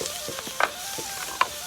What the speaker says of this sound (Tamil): தேங்காய் இந்த வெள்ளைப்பூடை போடுறேன். வெள்ளைப்பூடு இந்த வதங்கிற போட கொஞ்சம் வாசம் உண்டு அடிக்கும்